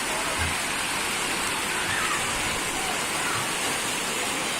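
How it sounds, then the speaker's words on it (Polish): Steady rushing water pours and splashes continuously down water park slides, a dense broadband wash like a cascade, with no voices standing out. "Wszędzie leci woda."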